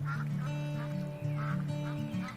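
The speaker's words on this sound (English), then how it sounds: "the mallard is a much maligned and overlooked duck" Mallard ducks call with repeated honking quacks in a short, uneven series, fairly close and clear over a quiet outdoor background.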